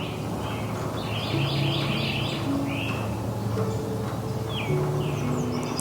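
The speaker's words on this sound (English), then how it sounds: "feeding his birds." Pet birds chirp and tweet in short bursts while being fed outdoors, with a pigeon- or dove-like coo mixed in. The calls are moderately close over a steady background hum, and nobody speaks.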